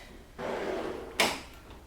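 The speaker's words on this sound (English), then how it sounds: "you got to pull them a little bit to get them out" A drawer in a pencil storage cabinet slides open with a short scraping rumble, followed by a sharp knock as it stops, close and alone.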